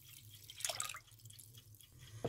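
A third jar of water is poured into a pot of cheese soup, heard as faint, close trickles and splashes with a few brief louder spills, otherwise quiet.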